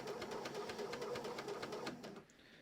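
A serger sewing machine chains off after stitching stretch fabric for yoga pants, a fast steady mechanical rattle of needle strokes running loud and close for about two seconds before stopping abruptly.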